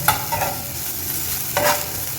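Beef pieces frying in a small amount of oil give a close, steady sizzle, broken by a few sharp scraping stirs at the start and again partway through.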